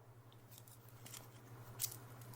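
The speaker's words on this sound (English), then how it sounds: "I'm going to take my scissors and I'm going to cut at an angle" Sturdy scissors cut pine needles at an angle while a basket is being made, a few faint, brief crunchy snips, the sharpest one near the end, set against a quiet steady hum.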